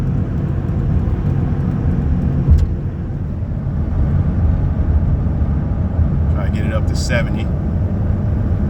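A 2006 Toyota Tundra SR5 pickup cruises down the road at about 65 mph, with a steady low engine and tire drone inside the cab and a brief voice partway through.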